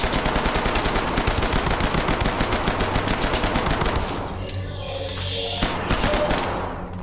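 Sustained automatic gunfire in the game Hidden Deep, a fast, even stream of shots for about four seconds, then cut off, leaving dull rumbling and a few thuds.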